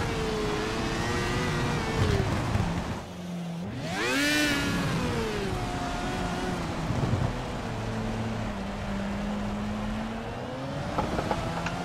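A race car engine in the racing video game Project Cars roars continuously in high gear down the pit straight, its pitch briefly dipping and climbing sharply during a gear change.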